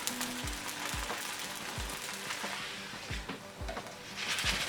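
A kheema paratha frying in oil on a hot pan, giving a continuous close sizzle with soft, regularly repeated dull taps underneath.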